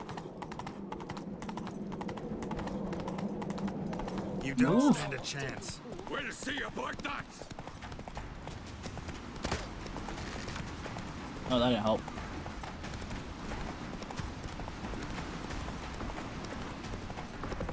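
Horse hooves thud in quick galloping beats during a chase in The Witcher 3, running steadily under voices speaking and calling out, with two louder impacts standing out.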